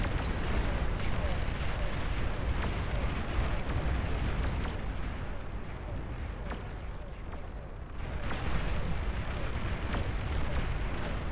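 Advanced fusion reactors blow up in the real-time strategy game Beyond All Reason, a dense wash of rumbling explosions and artillery-like blasts rolling on steadily beneath game chatter.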